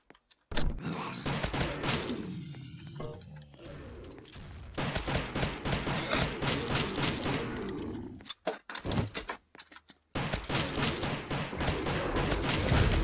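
Repeated bursts of gunfire from the player's gun in the Roblox zombie game Rise of the Dead come in rapid, loud volleys, with a few short pauses between strings of shots.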